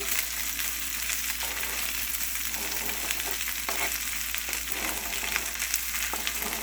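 Chopped onion sizzles in a pan of olive oil and butter, a steady, even frying hiss with soft crackles that runs for the whole stretch with no talking.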